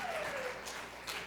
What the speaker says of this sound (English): Round of applause for Carlin.